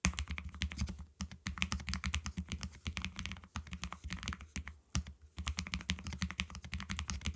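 Rapid typing on a Lofree Edge low-profile mechanical keyboard, softer keystrokes in a dense steady patter of clacks with a few brief gaps.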